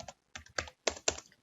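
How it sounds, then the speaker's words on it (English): Numbers are typed on a computer keyboard while a new record is entered in Microsoft Access: five crisp, close key presses in a quick irregular run, with short silences between them and no talk. "I'm just typing in the numbers."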